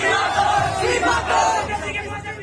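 More than 200 ABVP student activists protest against university administrators at a campus demonstration, a loud, dense crowd chanting slogans together in a continuous roar with no separate claps or bells standing out.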